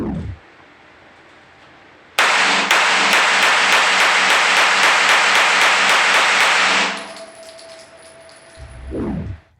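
A semi-automatic pistol fires a rapid, steady string of about fifteen sharp, close shots. The shots stop abruptly, leaving a faint ringing tone.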